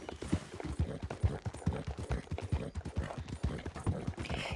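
Steady, close horse hoofbeats clip-clop in a quick, even rhythm from the video game Red Dead Online, with no voices.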